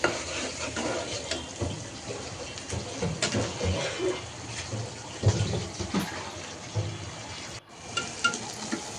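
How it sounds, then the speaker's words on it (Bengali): Dried fish (shutki) frying in oil in a pan, a continuous crackling sizzle punctuated by stirring scrapes and clinks at moderate, close range. "প্রথমে শুটকিটা তেলের মধ্যে ভালোভাবে ভেজে নিচ্ছি।"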